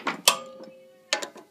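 A 10 mm socket wrench ratchets on a bolt of a Taco Monster Frijole mini bike. Two short bursts of quick, close mechanical clicks are separated by a brief pause, with no talking.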